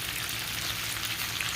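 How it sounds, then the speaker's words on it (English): Cabbage cooks down in a covered pan, giving a steady, close hiss of sizzling that holds at an even level throughout a short stretch. "we're just going to put the lid on and let this cabbage cook down"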